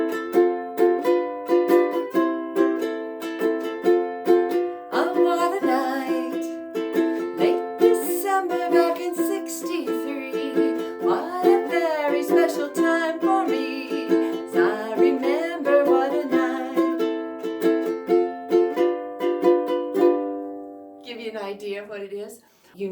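A 1975 hit plays as a steady tuneful passage of sustained melodic notes over a rhythmic beat for about twenty seconds before cutting off, with no talk over it.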